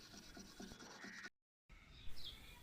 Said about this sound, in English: For that, I'm using the metal scrubber.